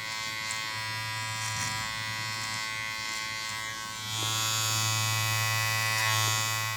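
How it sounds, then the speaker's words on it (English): Electric hair clippers cut short hair during a men's haircut, a steady close-up buzz that holds throughout and grows slightly stronger and busier in the second half. "Use half of the clipper."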